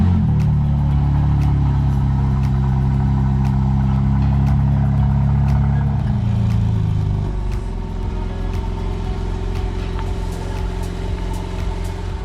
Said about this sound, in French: Mais avant ça, petit start-up de la bête.